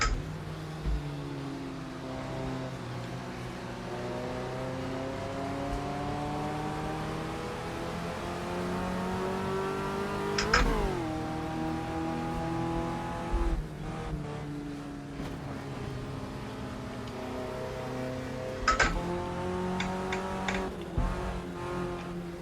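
A race car in Automobilista 2 at Brands Hatch heads for the pits, its engine droning and climbing steadily in pitch, with gear shifts and sharper revving spikes along the way.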